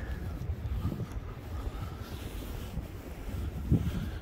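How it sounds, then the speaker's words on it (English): Wind gusts and rumbles outdoors on a January neighborhood walk in the East Bay, buffeting the microphone with a low, steady roar and occasional stronger blasts, the wind heard up on a ridge. "I can hear the wind up on the ridge"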